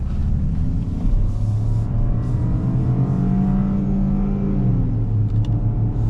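A 2024 Ford Escape ST Line builds speed on the road, its engine a steady low rumble with rising harmonic tones as it accelerates, close and continuous inside the cabin.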